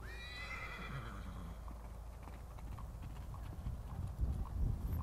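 A horse canters on a riding track, its hooves thudding in a steady rolling beat that grows louder toward the end, opening with a clear whinny and no talking over it.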